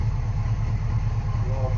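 A Cadillac 472 cubic inch V8 engine idles at a low, even speed near 550 to 600 rpm, a steady close rumble with regular pulses, while a voice faintly speaks over it.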